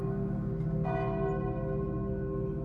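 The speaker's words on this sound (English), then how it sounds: "the sound of the rectory's bells, long since destroyed, tolling in the dead of night" Church bells of a rectory toll at night, deep resonant strikes ringing and sustaining loudly with long humming decay, nothing else audible.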